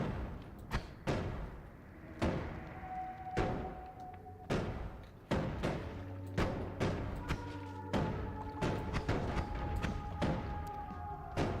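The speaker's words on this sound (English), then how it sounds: "Can we knock it off with all the explosions, please? It's very loud." Explosions in the Noita video game go off in rapid succession: a dense run of sharp booming thuds and blasts, some overlapping, with ringing tones trailing between hits.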